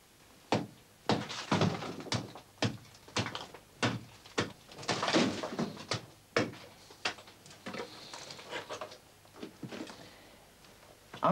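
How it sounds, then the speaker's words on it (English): The back of an antler is used as a hammer against lumps of flint in an ancient flint mine, giving a rapid series of hard, dull knocks, a dozen or more irregular strikes close by. "it is easier to use the backside of the antler as a hammer to knock on the lumps"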